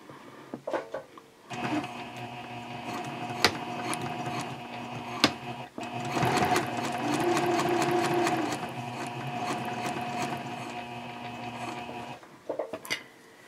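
A sewing machine runs a long continuous stretch stitching a messenger bag seam in Gutermann Mara 70 thread, its fast even whir with a few sharp clicks and a brief pause midway, close and alone without talk.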